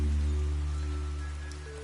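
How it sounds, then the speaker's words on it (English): Steady rain falls in the video game Fantasian Neo Dimension as an even wash of patter, with a low hum of game ambience underneath and no talking. "This night it rained"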